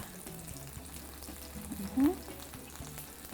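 Seasoned tofu frying in a pan, a close, continuous sizzle and crackle lasting a few seconds with a brief louder burst midway; a voice is faintly present underneath.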